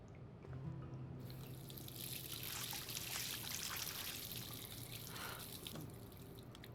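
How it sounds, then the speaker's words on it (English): Water splashes onto a face at a sink in the Life is Strange video game, a steady rushing tap stream with splashing that swells in the middle and trails off, close and alone. "we have splashed water upon our face"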